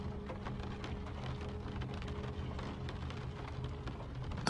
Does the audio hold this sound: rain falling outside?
yes